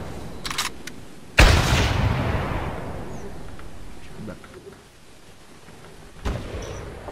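Rifle shots from deer hunting in The Hunter video game: a single loud, close gunshot with a long echoing tail, then a fainter distant shot a few seconds later.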